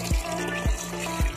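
Running water spills over chicken pieces being washed for biryani in a home kitchen, a steady trickle broken by three evenly spaced low thuds.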